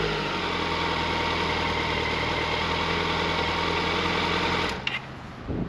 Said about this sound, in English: it gives you an idea of what a cold start sounds like on this bike